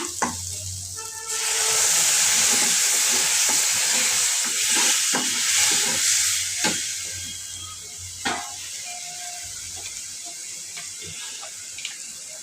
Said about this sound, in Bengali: আমি মাছ ভুনা করবো আজকে।